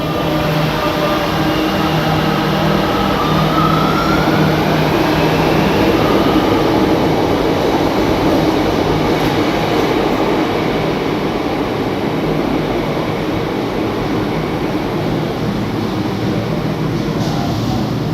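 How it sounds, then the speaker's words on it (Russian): An Argentine metro train rumbles loudly and steadily throughout, with faint tonal door-closing warning beeps under the roar. "Слышите гудки? Это что двери будут закрываться."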